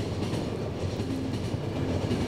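A train in the video game The Final Station rolls along with a steady, close rumble and faint rhythmic clatter of wheels. No one talks.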